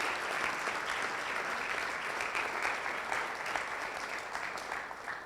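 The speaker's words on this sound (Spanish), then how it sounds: "Le hace aplauso fuerte, promesa de Dios." A church congregation at a Sunday service claps steadily, a dense, even wash of applause that holds at a moderate, slightly distant level throughout.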